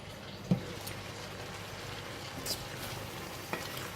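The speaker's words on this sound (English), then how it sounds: "I'm going to let it simmer in here for about 1 or 2 minutes" Prawns and four-angled beans simmering in a pan with tamarind juice and a little water for sambal, a soft, steady bubbling sizzle with a few faint clicks from the pan.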